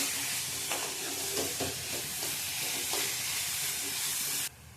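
A coconut and sugar mixture is stirred in a pan over low heat, giving a steady close sizzle with soft scraping strokes throughout, ending abruptly near the finish.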